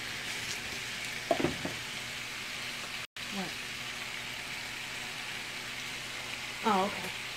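Wild caught salmon pan frying at home, giving a constant, even sizzle of hot oil throughout. A person talks briefly over it.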